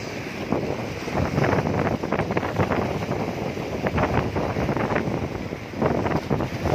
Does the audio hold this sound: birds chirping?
no